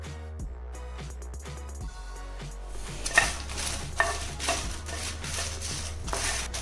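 Dried chilies frying in oil in a pan, a steady soft sizzle broken by scraping stir strokes and light clinks of a spatula against the metal pan, close up with no talk.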